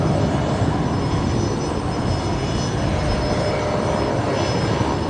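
A passing airliner in a special commemorative livery marking 100 years since the first England–Australia flight, at Brisbane Airport; a loud, steady, broadband engine roar fills the scene without letting up.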